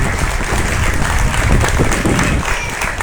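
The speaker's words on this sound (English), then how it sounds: "Let's give all of them a big round of applause here for exhibiting." Steady applause from an audience at a livestock swine show, a dense wash of clapping lasting the whole stretch, with faint voices mixed in.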